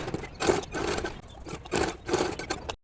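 Sewing machine running in short bursts while stitching the shoulder seams of a small child's garment made from reused old clothes; a few close, steady stitching runs separated by brief pauses.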